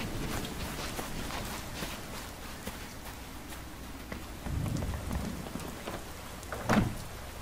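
Steady patter of rain falling across a surface in the video game Madden 18, with a few heavier thumps and a brief louder splash near the end.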